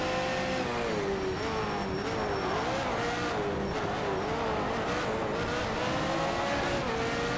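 Race cars in the Need for Speed Shift 2 game brake into a corner: a loud, continuous engine whine rises and falls in pitch, with tire noise over it and no voices.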